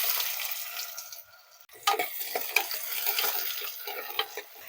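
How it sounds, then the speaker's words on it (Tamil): Finely chopped onion sautéing in hot oil with curry leaves in a pan, a soft continuous sizzle broken by the scrape and clatter of a spoon stirring, close and clear with no talking. "வெங்காயம் நல்லா கலர் மாற அளவுக்கு வதக்கிக்கலாம்"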